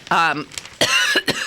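A few rough, hacking coughs in quick succession, close and loud, mixed with strained throat sounds.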